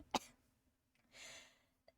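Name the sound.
cough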